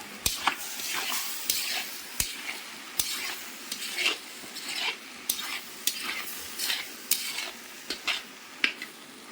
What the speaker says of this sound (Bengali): হলুদ মরিচ জিরে দিয়ে নাড়িয়ে নিলাম